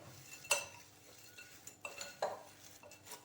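A spoon stirs a foxnut mixture seasoned with salt and black pepper in a pan, giving a few light scrapes and soft clinks in quick irregular succession, close and fairly quiet.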